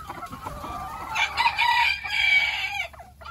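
Bantam chickens, Gold Laced and Candy Corn, cluck close by, then a cockerel gives a loud, clear crow lasting under two seconds, with soft clucking before and after.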